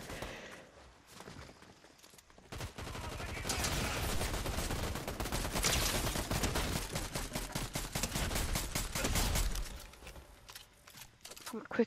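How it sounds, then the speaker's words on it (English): Bursts of automatic gunfire from a video game firefight build into dense, sustained shooting through the middle of the stretch, loud and continuous before easing off toward the end. "They're shooting above me or what?"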